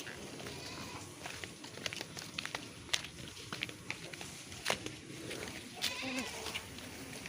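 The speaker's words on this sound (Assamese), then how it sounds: "গাইজ এইকেইটা আমাৰ ছাগলী" Household goats and a young kid bleating, a few short cries scattered over quiet outdoor background with soft footsteps, fairly near.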